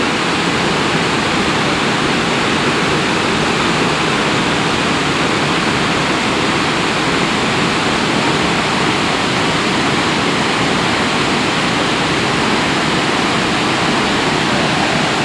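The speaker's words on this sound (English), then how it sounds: "This is Burney Falls at the MacArthur State Park." Burney Falls at McArthur State Park, a steady, loud, unbroken roar of falling water that holds constant throughout.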